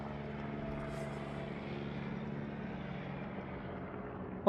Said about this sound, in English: Get a plane launch going here.